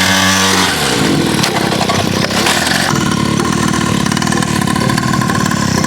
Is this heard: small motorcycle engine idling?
yes